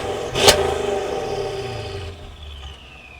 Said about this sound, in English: I'll go ahead and put a few exhaust clips of this now.